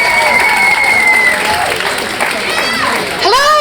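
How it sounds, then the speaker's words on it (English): An audience applauds a moderator and panel at a digital marketing conference stage, steady clapping filling the whole stretch, with a few cheers and whistles rising near the end. "Massive round of applause."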